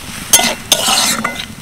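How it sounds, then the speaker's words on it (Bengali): Potatoes being stirred with salt, turmeric, chili and garam masala in a pan, a few sharp scrapes and clinks of a utensil against metal, close, over a faint background hiss. "ভালো করে মিশিয়ে নেব সব কিছু।"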